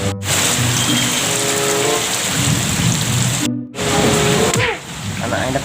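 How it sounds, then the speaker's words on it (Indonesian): Heavy rain pours down in a steady, loud roar with low rumbling underneath, briefly cutting out twice. "hujan nih"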